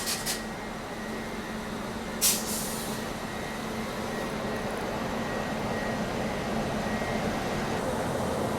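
Indore Daund Express train slowing at night near Vadodara, with a steady heavy rolling rumble and two short, sharp brake hisses standing out early on.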